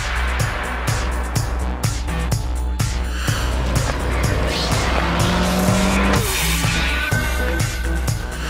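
A Proton car runs a slalom at about 80 km/h: a loud, constant engine drone with rhythmic pulsing, and long rising tire squeals near the end as the car changes direction, with no voices.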